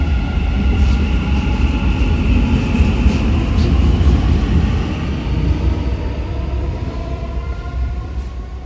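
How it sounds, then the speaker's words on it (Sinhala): Dubai Metro Red Line electric driverless train running, a loud continuous rolling hum with a rising and falling whine that slowly fades slightly over the span, no talk. "දැන් මං යන මෙට්‍රෝ එක දැන් ගිහී මම ඔයාලට පෙන්නන්න. මේක ඉලෙක්ට්‍රික් මෙට්‍රෝ එකක්."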